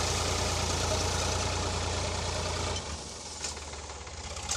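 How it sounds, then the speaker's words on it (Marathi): A tractor engine idles nearby in a turmeric field during harvest, with a low knocking rumble that drops in loudness partway through, then continues more softly with a few faint clicks. "दादाचं ट्रॅक्टर"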